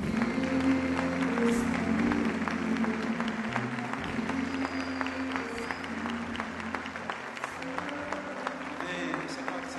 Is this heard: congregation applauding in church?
yes